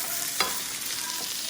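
Cooked hamburger meat and mushrooms are stirred in a pan, giving a soft steady sizzle with one brief scrape of the utensil, close and fairly quiet.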